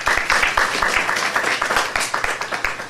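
A crowd at an SA presidential debate claps steadily, a dense, even wash of many hands at moderate loudness that holds for the full stretch with no voices on top.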